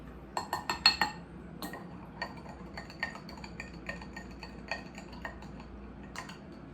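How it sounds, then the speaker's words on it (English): A metal spoon clinks repeatedly against glasses while stirring salt, baking soda and sugar solutions, with a quick burst of taps followed by scattered lighter clinks and ticks, close up and without speech. "I'm going to go back through and mix each one again."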